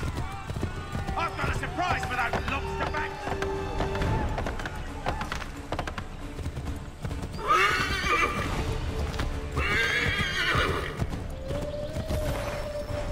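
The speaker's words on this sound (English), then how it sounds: "Run, you horse!" Hooves clop rapidly as a horse gallops in the video game Assassin's Creed III, followed by two loud, shrill neighs, with layered game sounds and a voice talking throughout.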